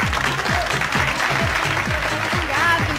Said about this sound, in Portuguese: Salva de palmas, moçada